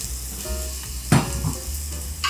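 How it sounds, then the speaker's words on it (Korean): Onions sizzle in a hot pan of garlic-infused oil for a Neapolitan tomato sauce, a steady close frying hiss with a sharp burst as they land and occasional stirring clatter, without any talking. "이제 양파를 넣어서,"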